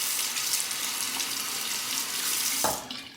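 Tap water splashing into a sink while a razor is rinsed after shaving, a steady close hiss that cuts off near the end, no talk.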